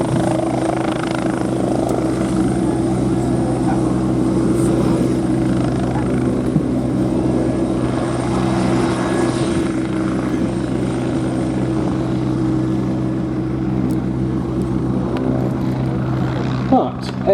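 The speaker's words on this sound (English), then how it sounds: "airborne from its slot in the helicopter lineup in front of you and starting its display is the army cousin of the Wasp" A Westland Scout army helicopter lifts off at an air show, its rotor and engine making a loud, steady, close throbbing drone, with a commentator talking over it throughout.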